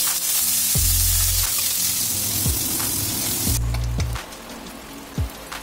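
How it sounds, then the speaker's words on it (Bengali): Chopped onions fry in hot oil with bay leaf, chilli and cumin, a loud steady sizzle broken by a few sharp scraping stirs before it settles quieter. "পেঁয়াজটা ফ্রাই হয়ে গেছে"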